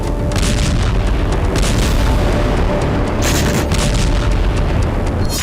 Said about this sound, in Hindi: यूक्रेनी सेना रूसी धरती पर नॉनस्टॉप विस्फोट कर रही है।